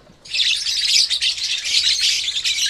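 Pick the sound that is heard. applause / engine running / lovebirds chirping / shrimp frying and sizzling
lovebirds chirping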